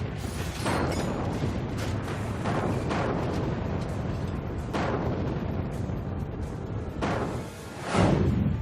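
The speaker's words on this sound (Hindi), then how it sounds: "सुनो पाकिस्तान होवित्जर की हुंकार।" Heavy Indian Army howitzer artillery booms roll out one after another, deep blasts with long rumbling tails over a constant loud, noisy background.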